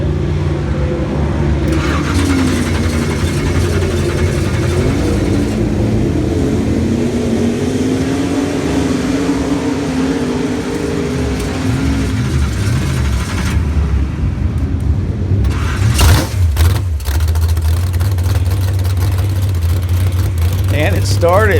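An engine cranks and idles after a carburetor repair, a rough, rumbling low drone with a wavering whir, followed by a few sharp clatters and a steadier low run, with people talking throughout.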